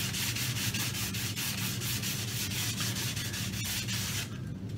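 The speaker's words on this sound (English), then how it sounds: "just finished it there with 400. Change that over and go to 600, which gives you the final sand" Close, steady hand sanding with 400 grit sandpaper on a worktop surface: a continuous dry rasping rub with a quick back-and-forth rhythm, easing off at the very end.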